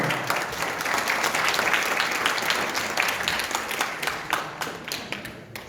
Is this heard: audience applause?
yes